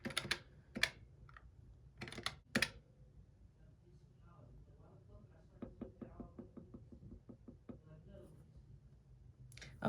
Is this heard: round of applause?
no